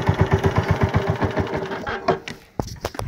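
A borrowed motorcycle's engine idles close by in a steady, fast pulsing chugging for about two seconds, then fades out, followed by a few sharp clicks and knocks.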